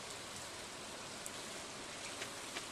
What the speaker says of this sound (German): wie wir hören, regnet es draußen